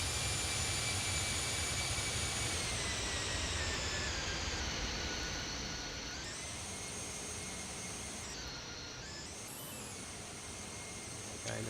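Jet engines of a ToLiss A319 airliner drone steadily on descent toward a runway in X-Plane 11, a loud continuous roar with whining tones that shift slightly in pitch, without speech.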